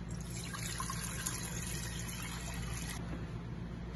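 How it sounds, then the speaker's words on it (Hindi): Water pours steadily into a pan to make jalebi syrup, a continuous close splashing rush that changes slightly in tone partway through. "जलेबी का शीरा तैयार करने के लिए हम एक पैन लेंगे, उसमें 1 किलो पानी ऐड कर लेंगे"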